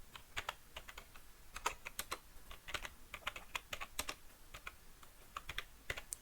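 Someone types a video title on a computer keyboard, producing quiet, irregular clicking keystrokes in quick bursts with short pauses.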